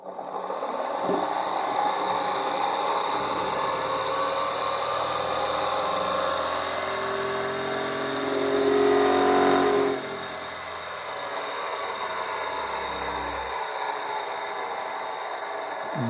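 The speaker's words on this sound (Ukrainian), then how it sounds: "коли я включаю двигун" A steady mechanical hum with a motor whirring underneath, rising briefly in strength before settling back to a constant drone.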